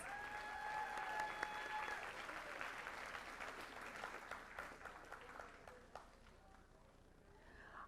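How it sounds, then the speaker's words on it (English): A round of applause for an honoree at a school board meeting, faint clapping from a seated audience heard at a distance, fairly steady and thinning out toward the end, with a brief tone and some murmur beneath. "Let's give Anna another round of applause"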